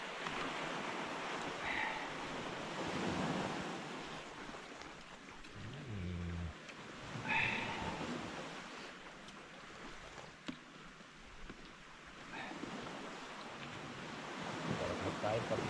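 Surf rolling onto a seashore where people are eating by the water, with steady wash of waves and wind buffeting the microphone; faint voices occasionally surface beneath the continuous roar.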